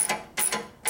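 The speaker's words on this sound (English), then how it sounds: "Take the wrench and tighten it up." A wrench tightening a bolt on a custom 1973 Harley shovelhead bobber, three quick ratcheting clicks close by, spaced about a third of a second apart, with no talk.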